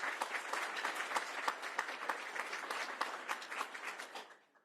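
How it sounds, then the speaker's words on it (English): Audience applause for State Parks Commissioners at a Goldendale Observatory celebration: steady, dense clapping from a crowd lasting about four seconds before quickly fading out. "Let's give a round of applause to our State Parks Commissioner."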